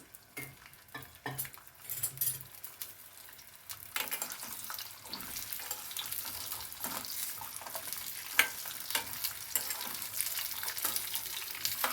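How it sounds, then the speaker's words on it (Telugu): Cut drumstick pieces fry in oil in a kadai until golden brown, with a steady bright sizzle and occasional scraping stirs; the sizzle grows louder after a few seconds and goes on without any talking. "కొంచెం గోల్డెన్ బ్రౌన్ అయ్యేదాకా వేయించుకోండి"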